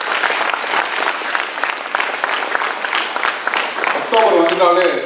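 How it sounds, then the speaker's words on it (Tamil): Strong audience applause at a Tamil education event hall, dense continuous clapping from a large crowd throughout, with a voice and music beginning near the end. "அதுக்காக ஒரு பலத்த கரகோஷம் இந்த நிறுவனத்துக்கு கொடுக்கணும்."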